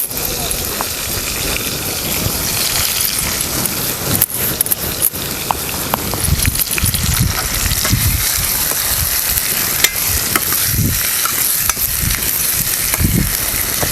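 Tomatoes fry in hot oil in a pan for a village-style egg curry, a loud continuous crackling sizzle with scattered pops and occasional stirring scrapes, a voice talking faintly in the background.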